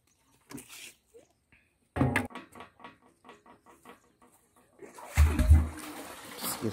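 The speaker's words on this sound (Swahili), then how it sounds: "Sikia maji" Water from a newly dug well in Ngulu, Igunga, arrives as faint scattered splashes and patter, ending in a louder gush of splashing, with no voices.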